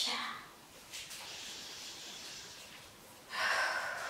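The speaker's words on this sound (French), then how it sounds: "Expire." Breathing out in a vinyasa yoga routine: a soft, steady breathy hiss that fades to a quiet lull, then a sharper close puff of air near the end, heard without speech.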